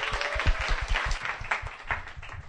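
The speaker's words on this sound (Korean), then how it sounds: "앞으로 나와주십시오. 박수 환영해 주십시오." Audience applause welcoming a speaker to the stage at a live show event; scattered, fairly faint claps with uneven low thumps rather than a full, dense roar.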